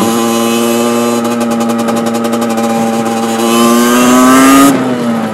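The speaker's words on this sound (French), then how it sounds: "À chaque fois que je lave ma moto, j'ai l'impression qu'elle fait 2 fois plus de bruit." A wheelie-training motorcycle engine revving loudly and close, a steady high droning tone that climbs in pitch toward the end before dropping back, with no talk.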